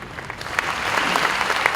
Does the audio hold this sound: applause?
yes